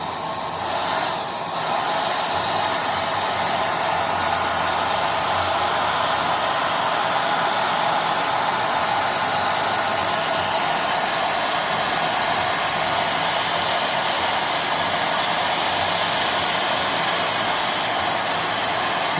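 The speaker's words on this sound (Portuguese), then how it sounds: "Vou passar então o secador de cabelo para que seque mais rápido o nosso decalque." A hair dryer held close to the skin blows steadily to dry and set a freshly applied tattoo stencil for an anime tattoo, a loud continuous whooshing roar lasting throughout with no talking.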